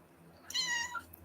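A cat meows once, a clear drawn-out call rising and falling over a quiet indoor background, with no one talking.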